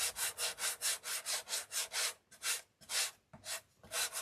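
A painted wooden door hanger is sanded by hand, giving rhythmic, raspy back-and-forth strokes, fast and even at first, then slower and more spaced out, close and fairly quiet.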